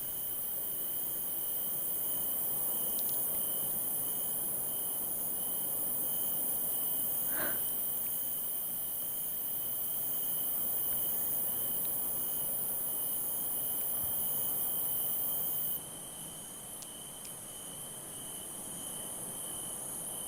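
Crickets chirp steadily through a quiet night, a thin, continuous insect trill holding at a constant level with no voices and no other sounds breaking in.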